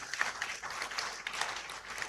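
Audience applause breaks out after an inaugural professorial lecture at UCC: a dense, steady wash of many hands clapping, moderately loud and sustained throughout with no speech over it.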